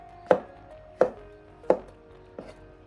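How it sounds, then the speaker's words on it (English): Knife chopping mushrooms on a cutting board, four distinct, evenly spaced chops with a sharp thud, close and alone with no talking. "Van a ir cortaditos ahí, así nomás, porque van a cortarme el dedo."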